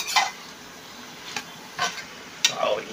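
Pork, potato and colocasia stems cook in a wok with almost no oil, a low sizzle punctuated by four sharp scraping stir strokes against the metal, close and intermittent with no talk.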